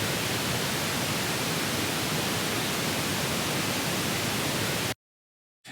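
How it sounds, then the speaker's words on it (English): Steady, dense pink noise from NoiseDash running in Docker hisses evenly at high volume for about five seconds, then cuts off abruptly into silence. "that's kind of what the default pink noise sounds like"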